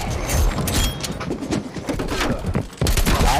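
AK-47 rifle fire in the PC shooter Black Ops Cold War, loud repeated bursts of close gunshots with short gaps, a heavy impact near the end, over game ambience.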